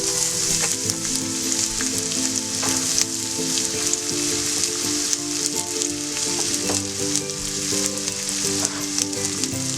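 Chopped garlic fries in hot oil with a steady, dense sizzle that runs unbroken throughout, a continuous crackling hiss with small spatters and occasional stirring, close and fairly loud, no voices.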